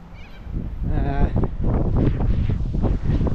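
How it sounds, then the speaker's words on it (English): Gusty wind on a stormy day buffets a GoPro microphone with low roaring bursts in a backroads town on Kangaroo Island, and voices talk faintly underneath. "It's quite windy, stormy day today."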